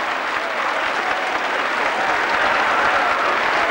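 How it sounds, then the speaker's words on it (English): Continuous, even applause from the French team's bench after a try in a 1989 France versus Great Britain rugby match, a steady dense wash of clapping. "applause from his colleagues on the bench"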